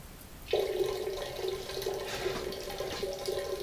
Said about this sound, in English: I think they need to fix the water leak though.